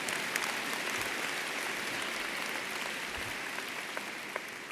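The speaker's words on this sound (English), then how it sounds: "Give her a round of applause." Steady applause from a large audience at a university commencement ceremony, a dense, even wash of clapping heard from a distance for several seconds, with no talk over it.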